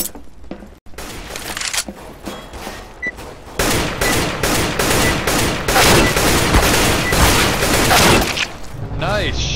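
Rapid gunfire rattles through a multiplayer shooter match in the game Demolition, with dense bursts of shots and booms building into near-continuous automatic fire; players' voices come in over the shooting.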